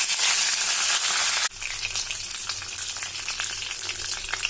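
Mustard seeds, dried chillies and curry leaves hit hot oil for a Kerala drumstick leaf stir-fry, a loud hissing sizzle that drops suddenly into a steadier crackling spatter, close by.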